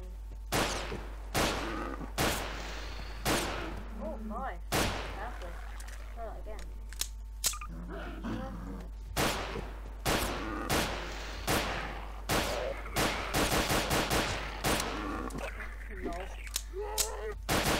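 Handgun fire from the M9K pistol pack in Garry's Mod, single sharp game gunshots cracking out one after another at a steady, uneven pace, loud and close with a constant low hum underneath.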